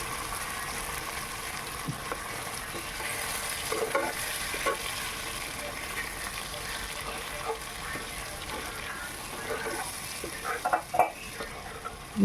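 Boiled, ground spice paste loosened with a splash of water fries in oil in a pan for shahi paneer. It gives a continuous sizzle broken by scraping stirs and occasional watery clinks, with no voices.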